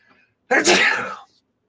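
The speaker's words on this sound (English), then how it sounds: "I got to sneeze, so you're going to have to give me a second." One sharp, close sneeze bursts out of near silence and trails off after under a second.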